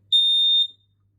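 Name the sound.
interlinked smoke alarm sounding during test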